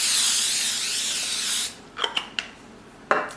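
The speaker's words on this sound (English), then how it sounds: "I'm just going to spray my cookie pan with this baking spray" Baking spray hissed onto a cookie pan in one continuous burst of about a second and a half, then a few light clicks and taps.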